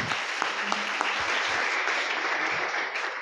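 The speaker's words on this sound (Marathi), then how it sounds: "जोरात टाळ्या वाजवून त्यांचं स्वागत करा" Steady applause from an audience at a college competition event welcoming a student speaker, a dense continuous clapping of many hands held evenly for a few seconds.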